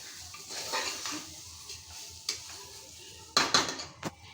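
Ingredients for Khandeshi thooli being stir-fried in a pan, with soft stirring and faint sizzling, then a few sharp utensil scrapes and clinks against the pan near the end.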